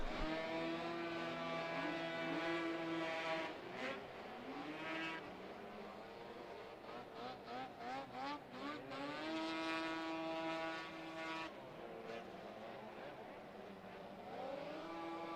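Vintage snowmobiles race through a heat at a world championship derby, their high engine whines overlapping and sweeping in pitch as several machines pass, steady and moderately distant throughout.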